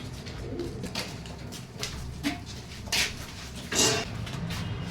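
Pet pigeons kept for racing tournaments coo softly in a loft, a low murmuring texture with a few louder bursts rising over steady background noise.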